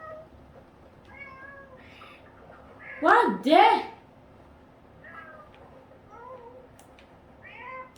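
Cats meow in a witch-house video game, with a pair of loud overlapping meows in the middle and softer mews before and after, while a person talks over them.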